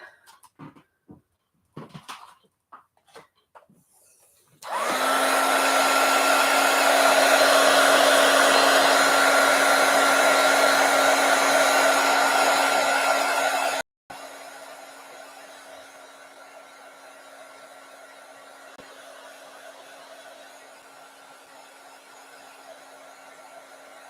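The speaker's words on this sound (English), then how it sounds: "so now let's do the heat gun real quick." A heat gun blows hot air during craft journaling: a loud, steady whooshing roar that starts abruptly, runs for about nine seconds, briefly cuts out, then continues at a lower, softer level to the end. No one speaks over it.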